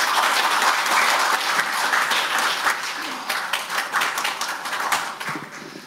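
An audience at a tidal power policy forum on Saemangeum applauds, dense clapping that starts strong, thins into scattered individual claps and fades slightly toward the end, with a few voices faintly underneath.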